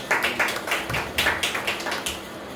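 A short round of clapping, a few hands beating in a steady, even rhythm, fairly close, with no voices.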